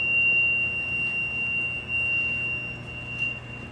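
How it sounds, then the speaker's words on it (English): A Tenney T-Shock JR shock chamber sounds a steady, thin high-pitched electronic alarm tone that holds continuously over a low equipment hum, with a brief pause and a small blip near the end. "There's approximately a 10-second alarm, which will then reset."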